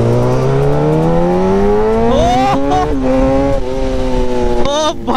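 Modified KTM Duke 390 motorcycles with dual disc brakes pull away up close, their engines climbing steadily in pitch as they accelerate, shifting gear a few times and revving loudly as the ride begins.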